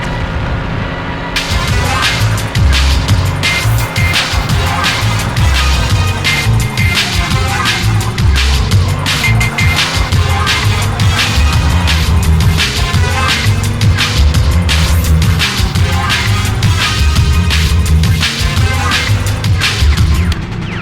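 A car in the 007 Racing game drives with a constant, loud engine drone whose pitch rises and dips with shifting speed, mixed with dense music and sharp, repeated game effects.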